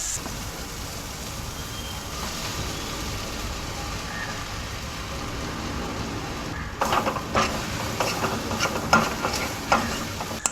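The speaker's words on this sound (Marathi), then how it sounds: "आता ब्रेड घालता आणि मिक्स करता" Bread pieces are stirred into masala in a pan for bread upma: a low frying hiss at first, then scraping and clattering strokes of a spoon mixing, close, with no speech.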